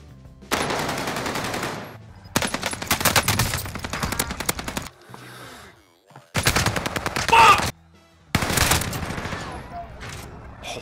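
Fully automatic fire from the NZ rifle in Warzone Pacific comes in four long, loud, rapid bursts separated by short pauses, close and dense, with a voice talking between and over the shots.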